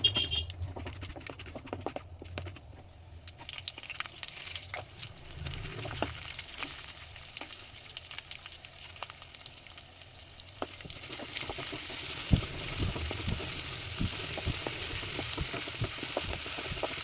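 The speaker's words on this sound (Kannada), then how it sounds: "ಆಯಿಲ್ ಹಾಕಿ ಒಂದು ಪ್ಯಾನನ್ನು ಹಾಕಿ ನಾನಿಲ್ಲಿ ಕುಂಬಳಕಾಯಿ ಪಲ್ಯನ ಮಾಡ್ಕೊಳ್ತಾ ಇದ್ದೀನಿ" Pumpkin palya fries in oil in a pan, with a continuous crackling sizzle broken by scraping and stirring. The sizzle grows louder and denser in the second half, with no voices.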